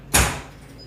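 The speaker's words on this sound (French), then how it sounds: "Des fois on entend ce bruit sourd là, c'est mon lave-vaisselle." A single dull thud from a running dishwasher in a home kitchen, one short low knock that fades quickly, with no talking over it.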